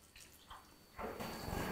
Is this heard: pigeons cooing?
no